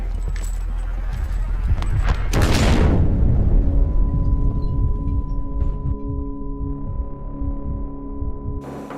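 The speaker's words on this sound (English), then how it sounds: "Grenade!" Grenade explosion in a combat scene: a loud, close boom bursts out after a few seconds of dense rumbling noise and decays into a low, humming drone.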